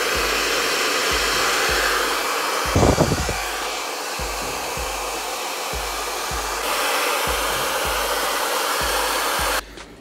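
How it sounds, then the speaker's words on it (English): A handheld blow dryer aimed at a freshly installed lace front wig gives a loud, close, steady whoosh of rushing air that holds for several seconds before abruptly switching off near the end. "For the small parts where they're sticking up, we're just gonna go in with the blow dryer"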